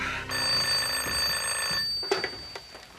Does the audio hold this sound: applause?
no